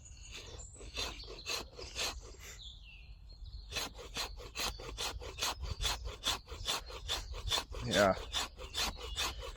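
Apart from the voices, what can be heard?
Bark River JX5 knife spine scraping wood to make tinder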